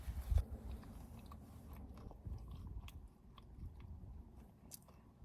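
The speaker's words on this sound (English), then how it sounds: "I think my granola is a little stale. It's not bad. Sweet, crunchy." Slightly stale granola crunches under close, steady chewing while camping alone in the desert, with no talk and a quiet outdoor hush.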